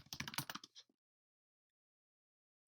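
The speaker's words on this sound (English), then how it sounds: "I'm going to type in American Revolution" A short burst of quick keystrokes on a computer keyboard while a search is entered, close and crisp. Silence follows for most of the remaining time.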